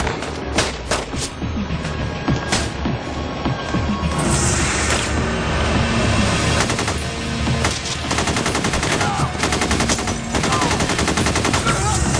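Dense, continuous automatic gunfire from a shootout between bank robbers and police in North Hollywood, sustained loud bursts and overlapping shots for the whole stretch with sharp cracks standing out.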